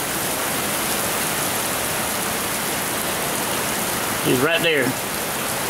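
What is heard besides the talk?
heavy rain storm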